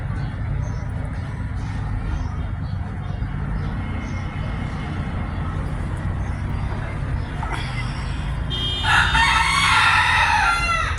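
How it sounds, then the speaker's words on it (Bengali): Pet chickens dust bathing on a ninth-floor balcony give soft clucks under a steady low hum, and a louder, brighter burst of clucking near the end. "আজকে আমাদের বুটি এবং জিটি কিভাবে বারান্দাতে হচ্ছে ধুলাবালি নিচ্ছে"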